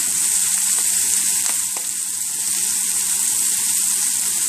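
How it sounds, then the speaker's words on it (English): Spinach leaves sauteing in an uncovered pan, a steady loud hiss of frying with faint clinks of stirring running through the whole stretch, no talking. "if you're going to saute any kind of leafies, you should keep it not covered"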